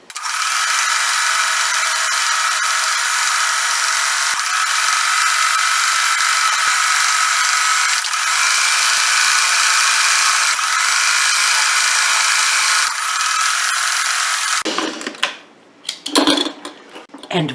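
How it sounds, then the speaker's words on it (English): Sewing machine running a continuous zigzag stitch along the fabric edges of a pillow sham, a loud steady mechanical whir for about fourteen seconds before stopping, followed by a few brief handling noises. "I'm just going to go around with a zigzag stitch just to reinforce the edges and help stop"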